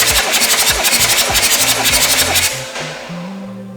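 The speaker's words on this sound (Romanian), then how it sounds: "Dacă se mai învârte motor." A flooded BMW 7 Series E38 car engine running with a rough, rhythmic rattle and hiss that settles into a lower, steadier hum partway through.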